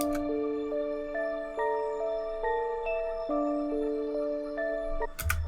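A synth pad treated with an Emerald Phase effect is layered with a bell, sustained tones stepping through a soft repeating melodic pattern, quiet and smooth, ending in a brief noisy burst.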